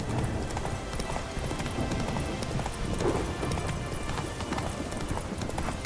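Hooves of Roach, the horse in the video game The Witcher 3, galloping in a fast steady clip-clop, close and continuous over game ambience, with a voice briefly speaking.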